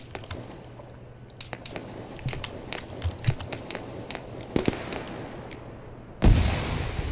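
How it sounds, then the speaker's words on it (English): Grenades going off in a firefight in the video game ARMA 3, with scattered distant pops and cracks across the scene and a heavier boom near the end, under a steady low hum, no speech. "As we can see, grenades going off but not effective."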